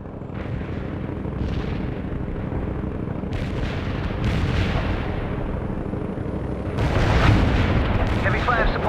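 Artillery strike in the World in Conflict strategy game, with several deep booming blasts rolling under a dense rumble and growing heavier near the end while a voice talks over it.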